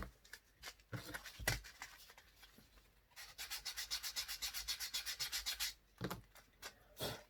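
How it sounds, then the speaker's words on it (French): A hand file rasps against the edge of a piece of paper card for a Christmas album, scattered scrapes followed by a fast run of rhythmic back-and-forth strokes, close and fairly quiet. "Avec ma lime, de faire disparaître ce petit bout qui ne me plaît pas du tout"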